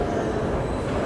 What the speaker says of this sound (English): This is the U-bahn.